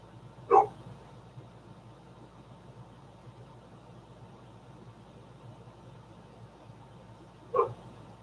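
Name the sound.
dog barking to be let back in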